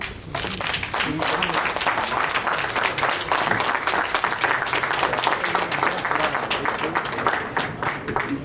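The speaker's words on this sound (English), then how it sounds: "Let's have a huge round of applause for our comrade Shri Pawan Kumar." Crowd applause at a bank officers' workshop as Indian Bank Officers Organization president Pawan Kumar is escorted to the stage: continuous, full clapping from a large audience, with faint voices mixed underneath.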